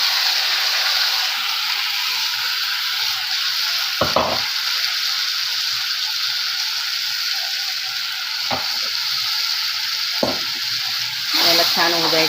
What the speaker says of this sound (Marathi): आता हे लसूण जिरं 2 मिनिटं होऊ द्यायचं आहे